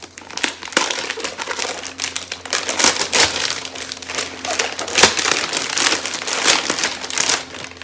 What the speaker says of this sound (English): she's got hard to rip Christmas paper